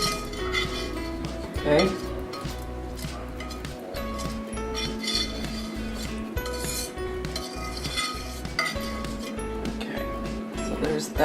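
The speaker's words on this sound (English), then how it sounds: "so you want to scrape every bit of that goodness into here, because this is your soup" Utensil scraping cheese sauce out of a pan into a pot of potato cheese soup: repeated close metallic clinks and scrapes against cookware in an irregular rhythm, with a brief spoken word.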